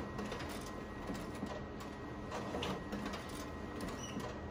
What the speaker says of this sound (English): prints the envelopes